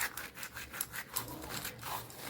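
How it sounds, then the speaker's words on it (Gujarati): Cumin seeds crushed between the palms, a soft close rhythmic rubbing and rasping repeated several times in quick strokes. "આપણે આ મસળીને ઉમેરશું"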